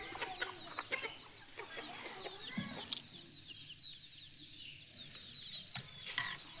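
Chickens cluck in short, scattered bursts at a moderate distance outdoors, with faint rustling and background ambience and no talk.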